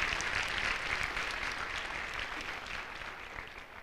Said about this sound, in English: let's clap for your teachers, too.